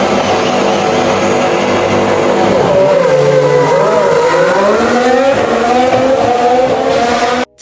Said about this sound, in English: Here's a clip of them revving and driving off.